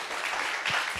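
Church congregation clapping for the teenagers at a Korean-English revival Sunday service, a steady dense patter of many hands throughout, fairly loud and close, with no talk over it.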